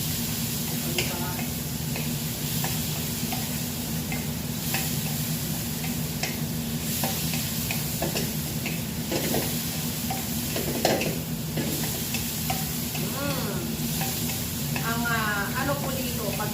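Bitter gourd (ampalaya) and sheep liver stir-frying in a pan, a steady close sizzle with occasional utensil scrapes, while a voice talks faintly over it.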